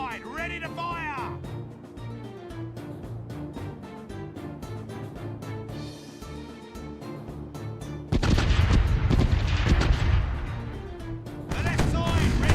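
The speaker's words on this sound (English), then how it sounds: "The right side, ready to fire!" Ship's cannon broadside in the pirate game Caribbean Legend, a heavy roaring volley of loud booms breaking out partway through, and another burst near the end, over steady battle music, with a shouted command just before.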